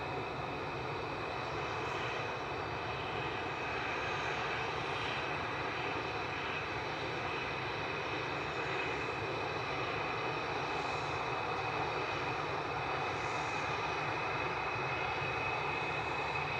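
A Boeing 737-800 airliner bound for Brussels taxiing at Manchester Airport, its engines giving a continuous, even whine and rumble that stays at a constant level from start to finish, with no talking.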